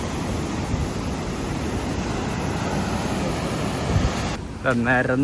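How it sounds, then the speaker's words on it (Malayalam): Steady broadband rush of surf washing on Kozhikode beach at night, continuous and fairly loud, with a voice briefly speaking near the end. "നല്ല തിരമാലുണ്ട് കേട്ടോ"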